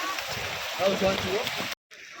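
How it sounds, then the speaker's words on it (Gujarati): Dense, steady hiss of heavy rain pouring down on Girnar hill near Junagadh, continuous and fairly loud, cutting out abruptly for a moment near the end before resuming. "ધોધમાર વરસાદ ચાલુ છે"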